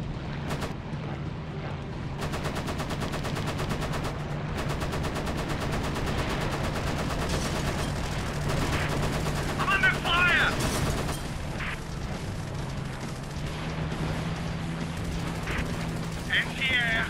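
Video game gunfire while under fire: rapid automatic bursts and steady repeated shots crackle throughout, with scattered louder booms, under a voice talking.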